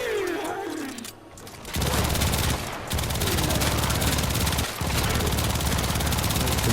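Rapid bursts of Kuva Twin Stubbas pistol fire from Mesa in Warframe, dense continuous gunfire broken by a couple of short pauses, loud and close over a game soundscape.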